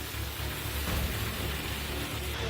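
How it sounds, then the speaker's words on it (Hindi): Heavy monsoon rain pouring down in Bageshwar with floodwater rushing along streets like a river, a dense, unbroken hiss with a low rumbling wash beneath, steady and loud. "मूसलाधार बारिश से शहर जलमग्न है।"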